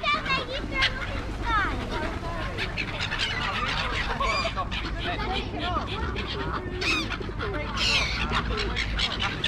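Canada geese honk repeatedly at a lakeside site at Bowness-on-Windermere, their loud, overlapping calls coming in irregular bursts over a constant low background murmur, with people chattering in the background.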